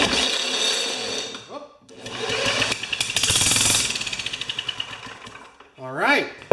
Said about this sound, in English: Okay, I got an electric drill. It'll spin a little quicker.